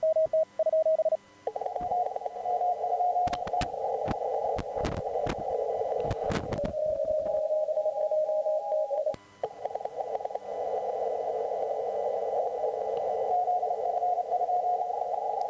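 Amateur radio contest audio flips back and forth between two transmitting radios, steady loud tones with bursts of clicks and static, cutting abruptly between channels throughout.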